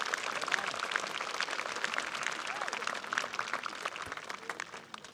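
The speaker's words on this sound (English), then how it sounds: "round of applause for your parents" A graduation-ceremony audience gives a sustained round of applause for the graduates' parents: dense, steady clapping from a large crowd that fills the hall evenly before thinning slightly at the end.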